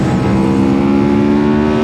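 An Aprilia RSV4 sport motorcycle accelerating, engine note loud, close and steady with rising harmonic tones, no speech over it.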